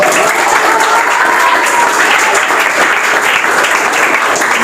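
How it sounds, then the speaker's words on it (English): Steady, dense applause from a competition audience at an English academy, honoring a best performer award; continuous clapping fills the whole stretch at even loudness, with no talk over it. "Clap for her."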